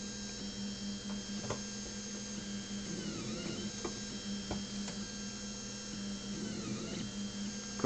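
A Tevo Tarantula Pro 3D printer with an E3D Chimera hot end prints under a steady electrical hum, its stepper motors whining and gliding with faint ticks throughout.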